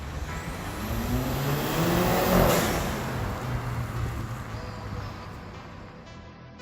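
A mostly stock Audi A4 engine accelerates from low revs up to around 5,500 RPM, a rising engine note building to a peak and then easing off as road noise continues.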